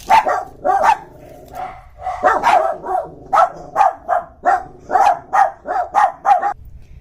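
Small dogs barking at men next door, a rapid run of loud, close yips and barks with brief gaps between them and no talking.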